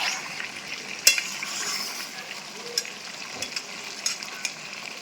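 Chicken and vegetables fry in a pan after tomato is added, a soft steady sizzle with occasional light scraping and stirring clicks, fairly quiet and close.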